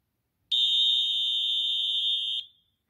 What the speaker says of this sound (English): now we're going to do, a whistle. I think that's more of an alarm.